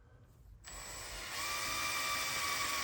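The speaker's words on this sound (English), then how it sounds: "All right, then we got our drill, and the drill bit came enclosed with the kit." A power drill with the kit's bit bores slowly into a Traeger Texas Elite 3 pellet grill. After a short quiet start, a thin whine kicks in and climbs to a steadier, louder pitch, with no talking.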